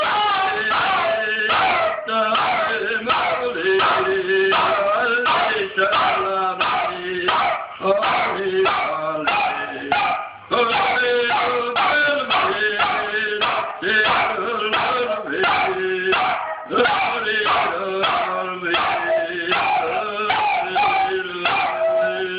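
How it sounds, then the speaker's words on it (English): A dog howls and yips along with a person singing, long wavering howls repeating closely over and over, mixed with the singer's voice and occasional talk. "You're a crazy dog."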